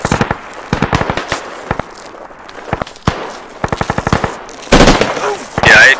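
Rapid automatic gunfire from the military shooter game Squad, set on the Tallil Outskirts map, crackles in sharp bursts with some single shots between them, loud and close, with brief voice chatter.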